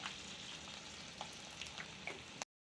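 Garlic frying in hot oil for a tender tamarind leaf and dried red chilli chutney, a close, continuous soft sizzle with small crackling pops that cuts off abruptly.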